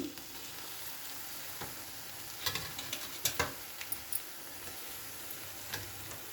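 Tomatoes drop onto softened onions frying in a pan, a quiet continuous sizzle broken by a handful of sharp spatula clicks and stirring scrapes midway.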